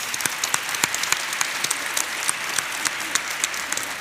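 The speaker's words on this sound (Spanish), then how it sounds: "Un aplauso para él también." Audience applause for a panelist at a public conversation event: a continuous, fairly loud wash of clapping with crisp individual claps standing out throughout.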